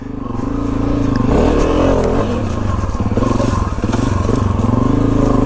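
A motorcycle is ridden with its engine droning loud and close, plus a brief rise in revs and steady road and wind roar throughout, with no speech.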